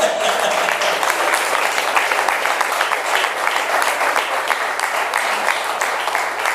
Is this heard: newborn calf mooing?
no